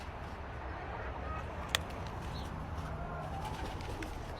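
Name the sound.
pigeons cooing on a farm in Cyprus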